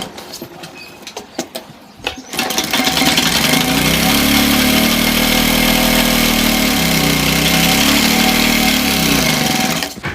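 Electric sewing machine stitching a gents' kurta sleeve seam, starting after a few quiet handling noises and then running as a steady, loud mechanical whir for about eight seconds before stopping.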